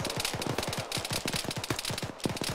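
Rapid automatic machine gun fire in Arma 3: a dense, steady stream of closely spaced shots running the whole stretch, loud and continuous against a wash of battlefield noise.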